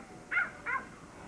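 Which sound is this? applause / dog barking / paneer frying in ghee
dog barking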